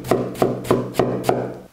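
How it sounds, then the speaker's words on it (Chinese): A knife chops potato, green pepper and carrot into shreds on a cutting board, five evenly spaced sharp thuds in steady rhythm, close and clear with no talk. "一个土豆，半个青椒，半个胡萝卜，全部切成丝。"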